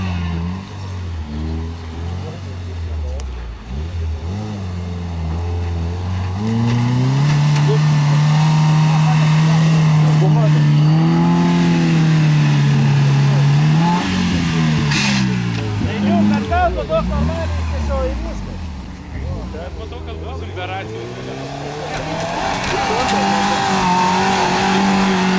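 Subaru car driving along a rutted track, its engine loud and steady with rising and falling pitch as it works through the ruts, while people talk over it throughout.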